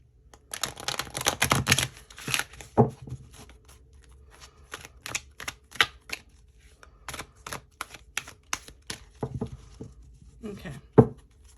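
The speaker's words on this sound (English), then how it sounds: "I'm gonna go ahead and draw some cards for her." Tarot cards being shuffled in a quick riffling burst, then drawn and laid down as a series of sharp separate snaps and taps, close and fairly quiet, with no one talking.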